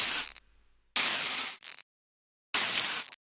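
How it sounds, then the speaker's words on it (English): Crackling tail sparks from the Doom gauss cannon sound in the video game: three short, hissy, noise-like bursts separated by silence, bright and fizzy, with no voices. "got these tail sparks which just kick in right at the end of the sound"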